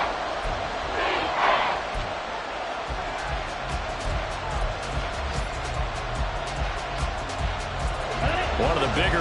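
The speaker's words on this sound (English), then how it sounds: "The crowd getting into it as we come up on a big third down." A stadium crowd in a Madden football video game roars steadily and loudly throughout, a dense continuous cheer building ahead of a big third down.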